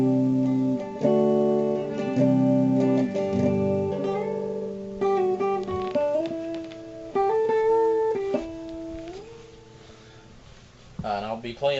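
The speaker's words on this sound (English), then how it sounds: "First, just to give you the clean tone." Clean tone from an Epiphone SG electric guitar running through a Behringer VT999 Vintage Tube Monster pedal into a small 15-watt practice amp, with strummed chords and picked single-note runs ringing out loud and close for about twelve seconds.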